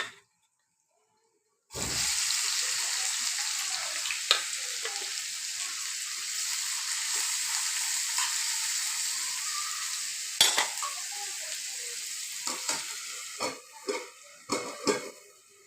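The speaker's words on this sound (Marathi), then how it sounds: "मोहरी टाकले, जिरं टाकले." Mustard seeds and cumin hit hot oil for a jackfruit curry: after a short silence, a sustained crackling sizzle starts close by, then gives way to a few sharp utensil clinks and knocks near the end.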